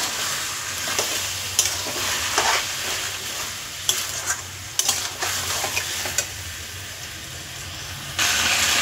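Spice paste of tomato and green chilli frying in a pan for a red chicken curry with potatoes, a steady close sizzle broken by repeated spatula scrapes and stirring knocks, ending in a louder hiss, with no talking.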